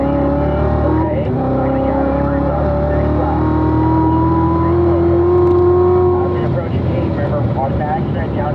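A performance car runs on the Spring Mountain Motorsports track, its engine droning loud and steady with a rising pitch as it accelerates, wind buffeting in the background.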